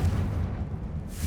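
Blasting spell explosion in Hogwarts Legacy: a deep, rumbling boom with heavy low-end that swells and lingers for about a second, with no speech over it.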